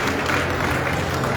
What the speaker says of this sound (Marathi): या लांबीसाठी जरा एकदा जोरदार टाळ्या वाजवा